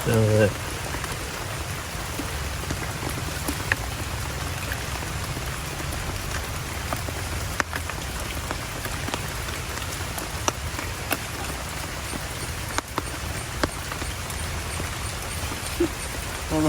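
Heavy monsoon rain pours onto a river in a Kerala village during cast-net fishing, a dense, unbroken roar of drops hitting water that stays close and loud throughout.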